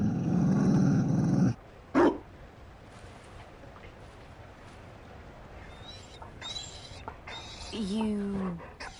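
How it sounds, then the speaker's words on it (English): A Mabari war dog in Dragon Age: Inquisition growls low and close for over a second, then gives a single short bark, followed by quieter ambient game sounds and faint whines or voices. "You found a dog?"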